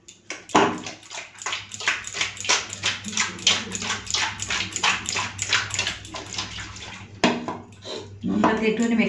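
Lote (Bombay duck) fish pieces washed by hand in a bowl of water, with repeated close splashing and squelching strokes in a steady rhythm, ending in a louder run of sloshing.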